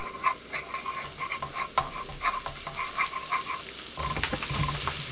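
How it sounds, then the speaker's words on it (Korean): Minced garlic stir-frying in perilla oil over medium heat for a Korean oyster mushroom side dish, a soft crackling sizzle with repeated short spatula scrapes and stirs, no talking. "중불로 들기름 2스푼, 다진 마늘 반 스푼 넣어 30초 볶아주세요"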